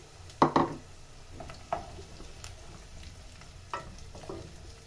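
Chopped smokies sausages sizzle with onions in a pan: a steady frying hiss broken by several sharp utensil clatters and scrapes, the loudest near the start.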